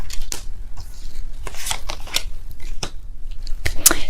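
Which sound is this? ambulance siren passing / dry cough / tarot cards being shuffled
tarot cards being shuffled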